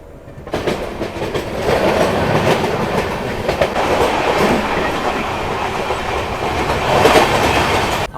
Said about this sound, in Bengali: এই মুহূর্তে আমার ট্রেন ছেড়ে দিল শিয়ালদহ থেকে।